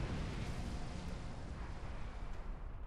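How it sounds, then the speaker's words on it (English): Explosion in a video game, a loud, sustained rumbling roar of broadband noise that fills the whole stretch without a break. "Let's get clear of the explosion."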